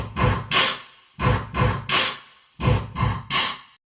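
Three bursts of pitched sneeze samples play the stomp-stomp-clap rhythm of We Will Rock You, each group of sharp, breathy sneezes spaced by short silences, loud and close with no talking.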